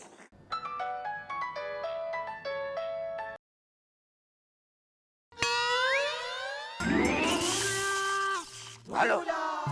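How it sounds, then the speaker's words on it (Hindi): A mobile phone ringtone plays a short electronic melody of repeated chiming notes for about three seconds, then cuts to silence before loud cartoonish boing and swoosh effects burst in. "भैया का फोन बज रहा।"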